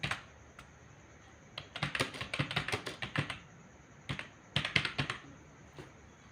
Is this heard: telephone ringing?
no